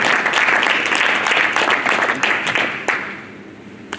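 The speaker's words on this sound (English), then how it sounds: "A big round of applause for him." Audience applause at a boxing press conference for the Jason Quigley v Kim Poulsen bout, a moderate burst of clapping from a room of people that fades out toward the end.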